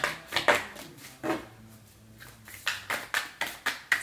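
Several short, crisp riffling bursts of tarot cards being shuffled, spaced irregularly with brief pauses, close and moderately loud.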